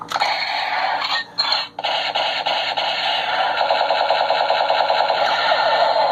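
Rapid Gatling-style firing effect from an iHarPro toy rocket-launching pistol, a continuous dense electronic rattle that runs for several seconds with two brief dropouts near the start, loud and close.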